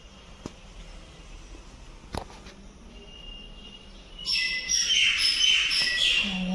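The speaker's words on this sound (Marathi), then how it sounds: "आय थिंक चिमणी आली." A sparrow chirps indoors, faint at first, with a few sharp knocks, then a busy burst of high, rapid chirping up close in the last couple of seconds.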